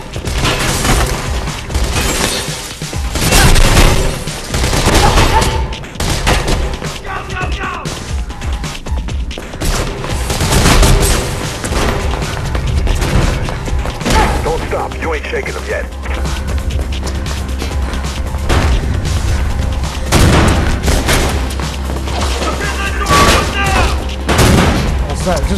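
Dense gunfire and heavy booms from the video game Mirror's Edge, with continuous loud bursts and crashes layered over game music and a low rumble, with a person's voice talking over the action.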